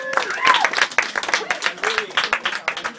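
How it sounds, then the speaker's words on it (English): Audience at a magic show claps after a volunteer returns to their seat, a lively patter of hands from a modest crowd with scattered voices and a few whoops rising over the clapping. "Let's have a round of applause."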